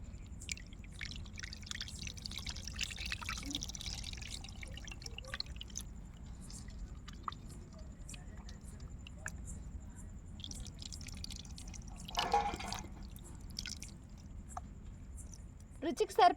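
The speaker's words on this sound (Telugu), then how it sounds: "చింతపండును గుజ్జులాగా చేశాను ఇప్పుడు పోస్తున్నా" Tamarind pulp poured into a fish curry, heard as faint drips and soft liquid trickles in a quiet room, with a low background hum.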